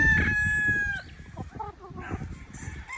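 A Sweater-breed gamefowl rooster crows loudly and close by in one long sustained call, followed by scattered clucking and other fowl noises in the background.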